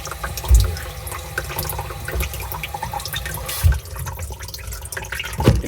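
Water runs and gurgles down a newly replaced sink drain assembly, a steady close splashing flow with a few louder gulps and sloshes.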